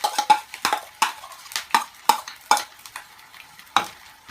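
Ginger and garlic frying in a hot pan, heard as a soft sizzle broken by a series of sharp, irregular stirring scrapes and spoon taps against the pan, fairly close and without talk.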